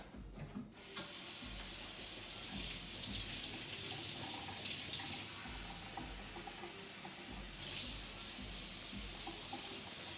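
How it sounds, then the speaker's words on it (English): Water runs steadily from a kitchen tap, a continuous close hiss filling a sink or bowl for bread dough, with slight changes in flow partway through and no talk. "So I'll go turn the tap on so we can get that going."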